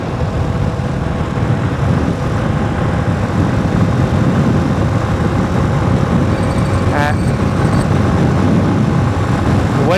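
Motorcycle riding along a road in Ghana toward Accra, a loud continuous engine and wind roar with a brief whine near the end, no speech.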